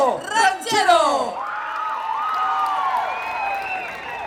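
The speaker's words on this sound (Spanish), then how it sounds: "Le damos el aplauso, se lo merecen, se lo han ganado en el escenario." A concert crowd at Expo Mimbre 2024 roars for a band, with loud whoops and high shouts at first, then a steadier wash of cheering and scattered yells that carries on at a lower level.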